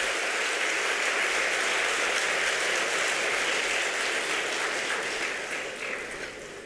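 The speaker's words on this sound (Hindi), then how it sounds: "जोरदार तालियों से मैम का हम स्वागत कर रहे हैं।" Loud, continuous applause from a large audience at a Brahma Kumaris golden jubilee celebration in Hisar, welcoming the President of India, sustained evenly before tapering off toward the end.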